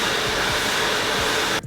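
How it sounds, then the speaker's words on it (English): A handheld blow dryer blasts a loud, continuous rushing whoosh close by while drying hair into loose waves, cutting off abruptly at the end. "I'm going to blow dry it with the Action blow dryer."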